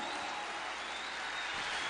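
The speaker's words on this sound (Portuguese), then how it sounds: "Vamos aplaudir quem está em casa." Crowd applause filling the Morumbi stadium in São Paulo before a Catholic Mass, a dense, distant, steady roar of clapping with no individual claps standing out.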